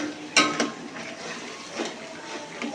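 A spoon stirs masala paneer in a metal pan, with a few sharp scrapes and clinks near the start and softer scraping after, close and alone.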